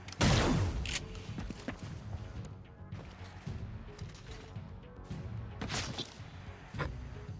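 A character explodes in XCOM: Chimera Squad with a sharp, loud burst at the start, followed by scattered crashes, thuds and clattering game effects that fade into a quieter background.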